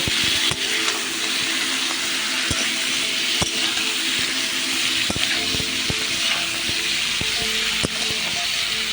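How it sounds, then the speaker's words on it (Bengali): Cut pumpkin and potato fry in hot oil with a steady, dense sizzle, punctuated by occasional light taps and scrapes of a spatula against the pan, close by and without voices. "এবারে আমি কেটে রাখা কুমড়ো আর আলু দিয়ে দেব। দিয়ে ভালো করে আবারও কষিয়ে নেব।"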